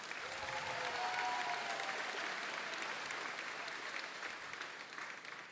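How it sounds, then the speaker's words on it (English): A graduation crowd breaks into sustained applause, a broad even roar of many hands with a few cheers, easing slightly toward the end. "let's give all that purpose a round of applause"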